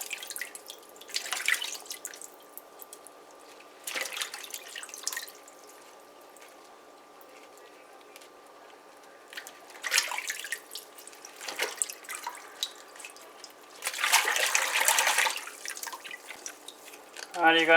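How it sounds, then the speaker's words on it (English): Pak choi leaves are rinsed in plenty of water, giving intermittent close splashes and drips from a tap with quiet gaps between, and a longer rush of water near the end. "you want to use a lot of water so that sand washes out properly"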